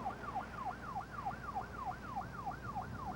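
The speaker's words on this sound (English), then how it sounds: "When I heard the sirens" An emergency siren, such as a volunteer fire truck or county ambulance, wails in a fast, even rising-and-falling cycle. It repeats about eight times, moderately distant, over low road rumble.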